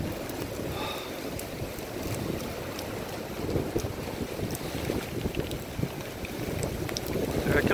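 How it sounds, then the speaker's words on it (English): Powerful wind gusts of about 60 mph roar steadily and buffet the microphone with low rumbling noise, building slightly louder toward the end, with no talk. "Gusts of winds that are so powerful."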